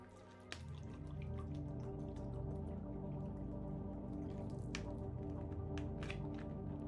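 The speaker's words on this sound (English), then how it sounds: "just me pouring myself a delicious drink" A drink being poured into a glass gives a soft, steady liquid trickle with faint drips and clinks, heard close and quiet in a calm indoor setting.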